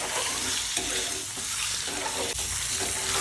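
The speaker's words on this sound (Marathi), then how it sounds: "तेलामध्ये थोडं मीठ टाकायचं, थोडी हळद टाकायची आणि अंडी पूर्ण टाकून घ्यायची। याला छानपैकी परतून घ्यायचं।" Eggs stir-fry in hot oil with salt and turmeric, giving a steady close sizzle broken by a few clinks and scrapes of stirring, with no talking.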